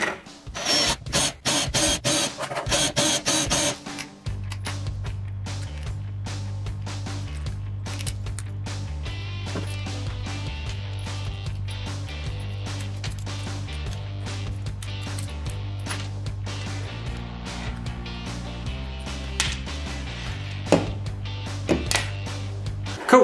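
Bolts being driven in to mount motors on a beetleweight combat robot drive pod, heard as a short burst of tool clatter and then a long, steady whirring and ratcheting drive with pulsing low hum, close up with no talking.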